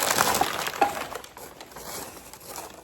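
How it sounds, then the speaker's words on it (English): Breakable HomeGoods purchases, such as Mikasa dishware, being unwrapped from their individual wrapping, giving close crinkling and rustling with a couple of faint clinks near the start. "Off camera, I'm just unwrapping it."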